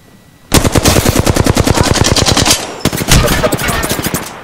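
Rapid automatic gunfire in Apex Legends on PC, a fast steady burst of about two dozen evenly spaced shots, a brief break, then another shorter volley, loud and close with no talking.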